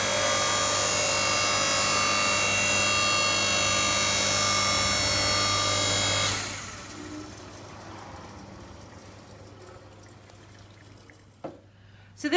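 Lawnflite LS52200 electric log splitter running and splitting a log, a steady loud motor hum with a tonal whine for about six seconds, then dropping to a quieter fading rumble, with a brief click near the end.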